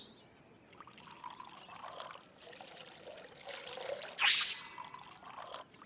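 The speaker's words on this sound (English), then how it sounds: "Pour the water." Water poured for coffee in the video game On Your Tail, a steady trickle building into a brighter splashing pour near the end, moderately loud and heard without speech over it.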